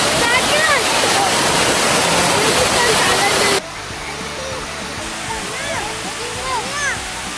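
Water pours steadily at Kandala Dam in Maharashtra, a loud continuous roar of falling water with excited voices talking over it; partway through the roar drops to a quieter level.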